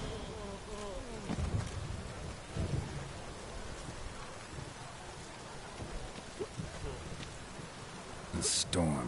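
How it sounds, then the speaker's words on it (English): A thunderstorm in The Witcher 3, with steady heavy rain hissing throughout and deep thunder rumbles rolling in, while a voice speaks over the downpour near the start and again at the end. "The storm, damn it."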